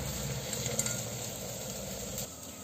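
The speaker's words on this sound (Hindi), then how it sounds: "अब हम इसमें सारी सब्जियां डाल देंगे।" Chopped capsicum, peas, tomato and carrot tipped into a hot pan for veg biryani, sizzling and frying steadily with stirring and light utensil scrapes, close and continuous.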